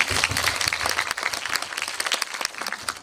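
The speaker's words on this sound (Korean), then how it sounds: "박수 부탁드릴게요" A cinema audience at a film screening talk claps steadily for a few seconds, a dense patter of applause that thins slightly toward the end.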